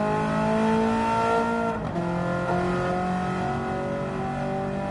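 A Ferrari 308 GTB engine in a racing video game holds a loud, sustained, close rev, with a brief dip in pitch like a gear change midway before the tone climbs steadily again, no voices.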